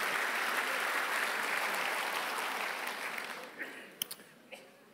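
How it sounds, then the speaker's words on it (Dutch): Audience applause at a language congress in the Netherlands, a dense sustained clapping from a large hall crowd that holds steady, then thins and fades out into scattered last claps. "Gaarne uw applaus voor Henk-Jan Honing."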